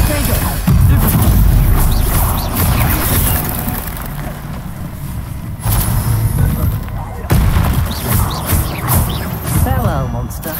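Stupefy spell blasts strike during a spider fight in the Hogwarts Legacy video game, heavy booming impacts landing at irregular intervals amid dense combat noise, with a voice speaking over the action.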